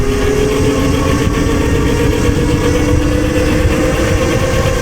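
An electric mini moto ebike accelerates with a loud, steady motor whine and a constant rushing drone, close and unbroken throughout.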